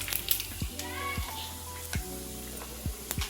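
Fresh ginger-garlic paste sizzles and fries in a pan for a homemade chicken pickle, a steady crackling hiss with occasional stirring scrapes, while faint children's voices sound in the background.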